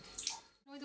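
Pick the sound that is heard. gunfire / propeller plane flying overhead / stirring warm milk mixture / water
water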